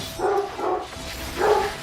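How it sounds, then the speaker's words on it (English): A hound dog barking indoors at home: three muffled barks in quick succession, the first two close together and a third after a short pause, moderately loud and somewhat distant, with no talking. "My hound dog says somebody's home."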